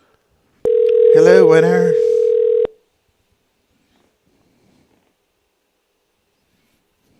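A telephone line for a radio call-in holds one steady tone for about two seconds, loud and close, while a voice speaks over it before it cuts off into silence.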